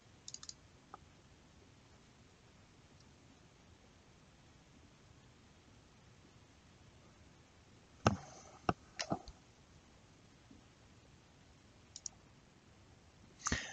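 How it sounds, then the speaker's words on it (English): Computer mouse clicks in a quiet room while a user works in PSCAD power-system simulation software: a few sharp, faint taps, including close double clicks, scattered over a long stretch of low background hiss. "double clicking on master library, double left clicking here"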